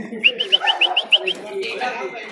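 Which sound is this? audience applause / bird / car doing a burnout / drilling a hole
bird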